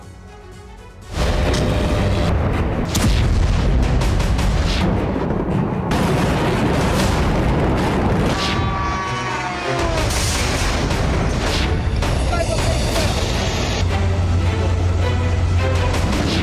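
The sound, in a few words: missile explosions in Russian cities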